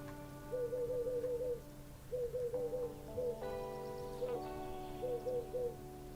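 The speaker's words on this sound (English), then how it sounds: "I heard a bird." Soft repeated bird hoots in short rhythmic runs from the cozy seaside video game Tiny Bookshop, set over steady game music with sustained tones.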